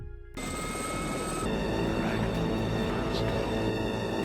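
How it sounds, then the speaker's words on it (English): An Aerospatiale SA-341G Gazelle helicopter, fitted with a nose cannon, roars in loud and close, its steady turbine whine and rotor noise filling the clip after a sudden start. "this awesome machine, Blue Thunder, an Aerospeciale SA-341G Gazelle with its glued-on Vulcan cannon in the front and afterburners on the rear of the engine"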